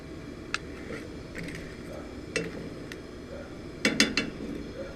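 Molten lead is stirred in a metal pot for making fishing jigs, giving sparse metallic clinks and scrapes that get louder and cluster near the end over a low background.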